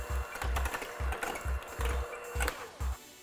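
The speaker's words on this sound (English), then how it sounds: "Use a hand mixer and mix those ingredients together" An electric hand mixer beats chocolate mayonnaise cake batter with coffee, giving a steady close whir broken by regular rhythmic thumps as the beaters knock through the mixture.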